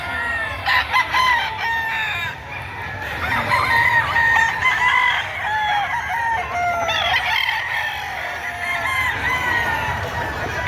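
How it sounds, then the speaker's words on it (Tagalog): Several roosters crow repeatedly over a busy backdrop of clucking chickens at a poultry market in Batangas, loud and close, with crowd murmur underneath. "At ito naman yung mga manok dito na mapagpipilian, oh."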